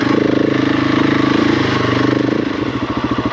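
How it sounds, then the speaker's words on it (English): A KTM 690 single-cylinder motorcycle engine runs loud and close on hard singletrack, its steady throb shifting into a choppier, pulsing beat as the clutch is worked near the end. "The mighty 690 will prevail with a little clutch action."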